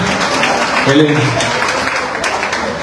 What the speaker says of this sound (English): Round of applause for KYLIE VERZOSA